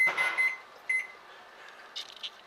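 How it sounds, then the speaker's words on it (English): A kitchen timer goes off during a one-hour boil of homebrew beer wort: three quick bright beeps, a pause, then one more, followed by faint clatter. "So for 1 hour my timer went off."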